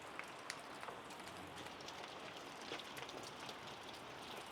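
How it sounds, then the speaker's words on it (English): Steady rain pours down outside a garage, a dense even hiss with scattered droplet patters, heard alone without talk. "it's raining outside"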